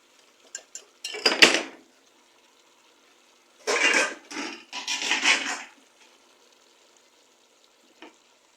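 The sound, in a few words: stirring chow mein vegetables in a pan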